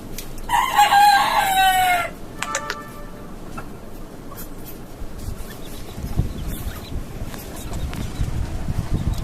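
A desi rooster crows loudly and close at the start in a caged backyard poultry setup, followed by scattered clucking from hens and faint ambient noise.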